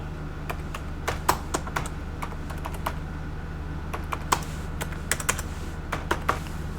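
Steady keyboard typing on a computer while entering a stock-chart indicator, with irregular bursts of sharp clicks over a low constant hum, close and moderately loud.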